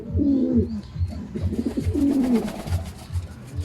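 A pigeon coos close by in a few soft, throaty, rolling phrases with short pauses between them, and no one talks.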